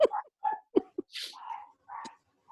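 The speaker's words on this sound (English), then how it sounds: "There must be a dog outside." A dog barks outside in a short series of sharp, fairly faint barks with brief gaps between them, heard at a distance in an otherwise quiet room.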